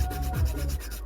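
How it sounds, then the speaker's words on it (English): A file scrapes an acrylic nail in rapid back-and-forth strokes, close and fairly loud, a rhythmic rasp lasting about a second. "start filing the next part of the nail"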